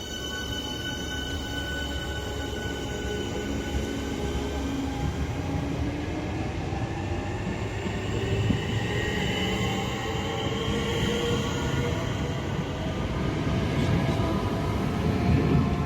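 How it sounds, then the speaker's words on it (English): Southeastern passenger train departing Grove Park station bound for Sevenoaks, a loud continuous rumble of wheels and traction motors with rising whine and rail clatter, steady and close throughout with no talk. "departing now is the 1328 Southeastern service to Sevenoaks."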